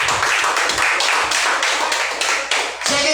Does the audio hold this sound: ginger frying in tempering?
no